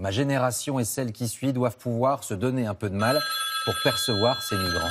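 A mobile phone rings during a French TV interview, its steady electronic ringtone starting partway through and continuing under a man's ongoing speech.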